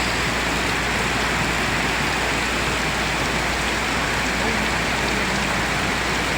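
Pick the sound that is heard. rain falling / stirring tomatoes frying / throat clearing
rain falling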